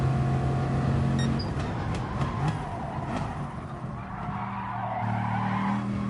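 Racing car in a racing game, its engine droning steadily at high revs while tires skid and squeal in sustained bursts, loud and close, easing slightly in the middle before the engine note rises again.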